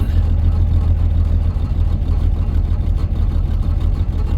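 A Dodge Challenger's engine runs steadily with its exhaust close by, a loud, deep low rumble that holds a constant idle-like rhythm throughout, with no voices.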